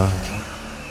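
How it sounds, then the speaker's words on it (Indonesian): A car engine starts and revs, a deep throaty rumble that swells at first and then settles into a steady drone, close and fairly loud. "Ku nyalakan mobil"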